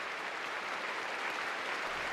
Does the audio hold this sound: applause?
yes